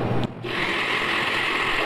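A kitchen blender runs steadily, emulsifying a homemade condensed milk mixture, with a constant loud whirring motor drone and a brief dip near the start before it carries on alone.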